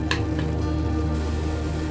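Tomato masala frying in oil in a home kitchen pan for tomato pulav, a steady continuous sizzle with a brief stir or scrape near the start, close and alone.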